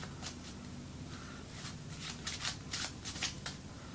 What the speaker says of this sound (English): I began to shuffle the deck